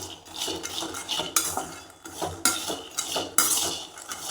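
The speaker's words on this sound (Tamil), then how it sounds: "கைவிடாமல் அந்த கடலையை வந்து கிளறி விட்டுகிட்டே இருக்கணும்" A spatula scraping and clinking against a metal pan as half a kilo of peanuts is dry-roasted over low heat, repeated close strokes in an uneven rhythm with rattling nuts, no voices.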